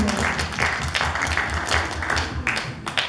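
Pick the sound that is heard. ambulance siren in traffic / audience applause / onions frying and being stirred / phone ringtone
audience applause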